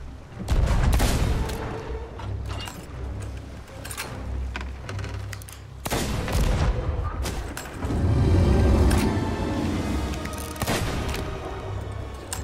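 Dense gunfire and heavy booming bursts aimed at kraken tentacles in a video game, sustained and loud across the whole stretch with surges of artillery-like thuds.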